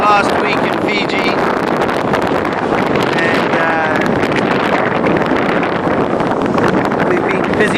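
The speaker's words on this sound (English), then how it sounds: "Very, very windy today. Really windy." Strong wind gusting across the sea shore at Vunabaka, Fiji, a loud, steady roar with buffeting rumble on the microphone throughout, with faint bleat-like calls briefly audible over it.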